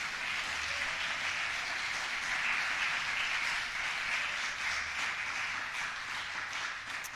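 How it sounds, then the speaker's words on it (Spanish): A church congregation gives sustained, dense applause that swells and holds evenly throughout, a broad wash of many hands clapping at once with no talking on top. "Dele un aplauso al Espíritu Santo."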